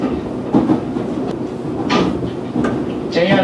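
Rumbling interior of a Fujikyu Line 211 series electric train bound for Takao, with rhythmic rattles and clacks over the rails, steady motor hum beneath, and occasional muffled voices.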